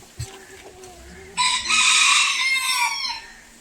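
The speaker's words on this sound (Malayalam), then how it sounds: "നമുക്കിവിടെ പലതരത്തിലുള്ള അല്ലെങ്കിൽ വിവിധ തരം കോഴികളെയൊക്കെ കാണാൻ സാധിക്കും" Several kinds of chickens at a village farm in Kottayam, Kerala, cluck near the start before a rooster lets out a loud, long crow that dominates the second half, with faint clucking continuing under it.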